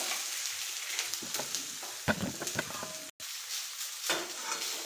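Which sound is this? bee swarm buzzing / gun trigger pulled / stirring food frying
stirring food frying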